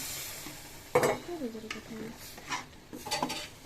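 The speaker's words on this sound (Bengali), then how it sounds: "সিদ্ধ নুডলসটা দিয়ে কিছুক্ষণ নাড়াচাড়া করব" Spoon stirring boiled noodles with butter-fried vegetables and chicken in a pan, close scraping and clinking strokes in an irregular rhythm over a soft sizzle, with a brief voice.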